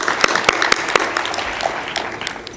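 An audience claps for graduating company employees, with sharp individual claps up close standing out over a fading bed of applause from the crowd.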